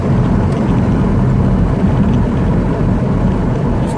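A Ford Falcon BA inline-six engine with new ignition coils revving hard against its rev limiter, a steady loud droning roar that holds without pause, up close, with no talking.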